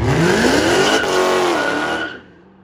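A loud car engine revs hard at a car meet, a harsh rising and falling roar with strong harmonics close by, cutting off abruptly near the end.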